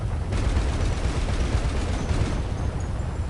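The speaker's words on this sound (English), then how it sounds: "I got the quad cannon now" A quad cannon in GTA Online fires in a dense, continuous barrage of heavy booming shots, loud and rumbling without pause, with no voices over it.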